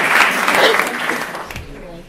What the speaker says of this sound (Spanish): Un fuerte aplauso para Paloma Montero, Beatriz Garde y Guiomar